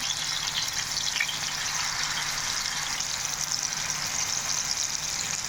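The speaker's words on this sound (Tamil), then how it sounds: "மீனை ரெண்டு தடவை போட்டு வறுத்து எடுத்துக்கலாம்" Steady, close sizzle of fish frying in hot oil in a pan, for a Sunday fish fry, a continuous bright crackle with no pauses or voices.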